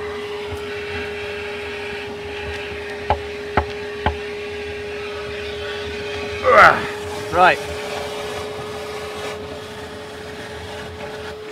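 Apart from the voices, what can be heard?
suction hose vacuum sucking water from pit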